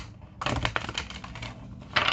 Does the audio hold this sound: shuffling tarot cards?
yes